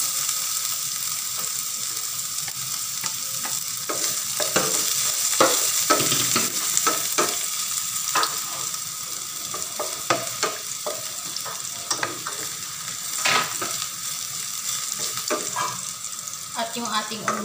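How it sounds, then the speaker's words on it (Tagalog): Garlic sautéing in rendered pork fat in a pan for Bicol Express, a steady crackling sizzle broken by frequent scraping stirs and clinks of a utensil against the pan, close and moderately loud. "At magigisa na tayo."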